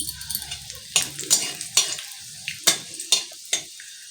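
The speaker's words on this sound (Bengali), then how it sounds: "এই যে দুটো শুকনো লঙ্কা এইভাবে ফাটিয়ে নিলাম" Two dried red chillies crackling and spluttering in hot oil, sharp irregular pops over a soft frying hiss, fairly close.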